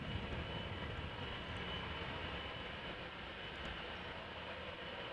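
A KLM Boeing 777-200ER, 19 years old, operating flight 691 to Toronto at Amsterdam Schiphol. A faint, steady broadband jet rumble runs evenly through the short stretch, distant and unbroken, with no voices.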